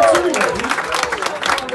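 Audience applause greets a group as they are introduced on stage, with dense clapping and crowd noise mixed with voices and music over about two seconds.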